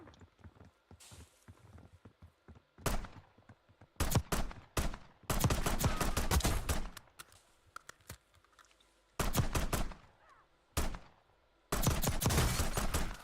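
A 9mm PM pistol fires in Call of Duty Warzone, bursts of rapid loud shots in irregular clusters with quieter gaps, no voices over them.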